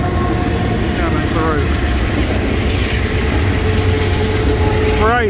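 A CSX freight train rumbles past close by in a steady, loud roar of rolling cars, with squealing wheel and flange screeches cutting in and out.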